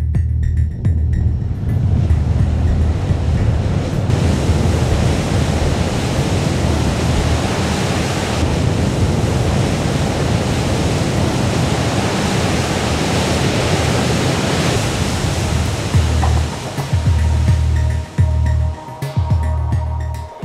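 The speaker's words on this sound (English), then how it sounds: "176 decibel blast of sound coming from the engines" SLS rocket engines roar at an Artemis launch, a loud continuous broadband rumble sustained for most of the stretch before it breaks up near the end.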